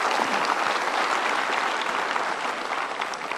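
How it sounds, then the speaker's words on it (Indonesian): Audience clapping steadily and loudly at a motivational talk, a dense, continuous wash of applause that holds for several seconds before easing slightly at the end. "kita berikan tepuk tangan."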